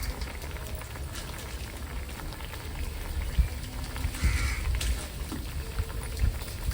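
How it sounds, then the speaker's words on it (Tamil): Mixed fish curry boils in a pot with a steady, close bubbling and popping that resembles light rain, with irregular louder blips over a constant simmer. "எப்படி இருக்கு பாருங்க அந்த குழம்பு கொதிக்கிறது"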